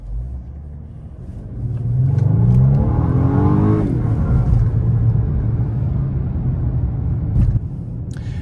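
A 3.5-litre twin-turbo V6 in a 2022 Toyota Tundra accelerates at full throttle on the road, its engine rumble building into a rising, surging roar that holds steady and loud with no talking.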